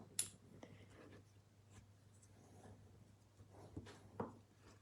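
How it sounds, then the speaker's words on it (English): A bone folder is pressed and rubbed over paper in a papercraft project, giving quiet, close scraping strokes with a few sharper taps over a low steady hum. "So we need to use our bone folder"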